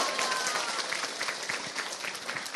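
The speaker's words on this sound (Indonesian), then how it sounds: "tepuk tangan dulu dong" Audience applause at a public religious talk, a dense steady wash of many hands clapping at close range throughout, with a few voices mixed in.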